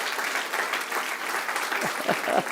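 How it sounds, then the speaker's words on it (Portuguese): A church congregation claps strongly and continuously, a broad, even roar of many hands filling the hall, with a few voices calling out near the end. "E se você concorda, aplauda forte o nome dele."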